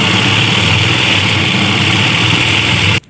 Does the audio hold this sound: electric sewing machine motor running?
yes